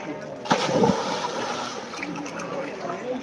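People jump into a clear, shallow river with a rocky bed, the Oglio in Italy, and one loud splash bursts out near the start before settling into a steady wash of moving water, with voices in the background.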